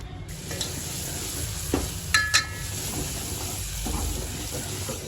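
Boiled mung beans and vegetables fry in oil in a pan on a gas stove, a close, dense sizzle with a few brief scraping stirs and clinks of a utensil, no voices.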